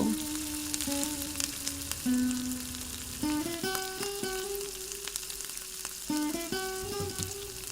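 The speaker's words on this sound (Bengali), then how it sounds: "এখন আমাদের পেস্ট করে রাখা মশলাটি ঢেলে দেব" Spice paste hitting hot oil tempered with nigella seeds for a Bengali pabda fish mustard-poppy curry, a close, steady sizzle with scattered pops and stirring clatter, no talk.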